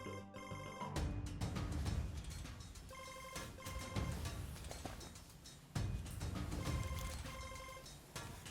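A telephone rings with a repeating electronic bell pattern, loud and close, the rings cycling steadily in bursts.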